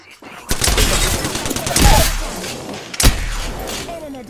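Apex Legends gunfire: a sharp shot rings out, then a dense, loud burst of rapid fire with shattering impacts follows, with another strong crack near the end.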